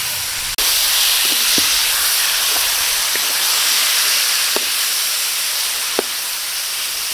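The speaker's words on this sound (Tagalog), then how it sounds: "Igisa lang muna natin." Beef sautés with garlic and onion in a pan, a loud, dense hiss that runs unbroken and is broken by a sharp utensil knock near the start and a few faint clicks later.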